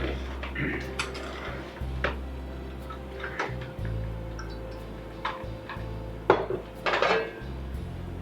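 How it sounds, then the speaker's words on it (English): A knife chops food into quarters on a board in a kitchen, giving sharp, irregular clicks and taps close by, with dish and utensil clatter over a low steady hum. "I'm going to cut these, quarter these, and I'm going to use these as for a dipper"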